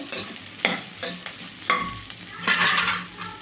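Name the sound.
beans and carrot pieces frying and being stirred in a pan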